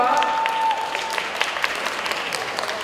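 An audience at a music event applauds to welcome the singer, a dense, even wash of clapping from a crowd that holds steady and then thins slightly.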